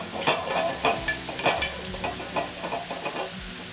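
Mushrooms sizzling in a hot stainless steel pan, a steady close crackling hiss with repeated stirring scrapes and pops, no talking.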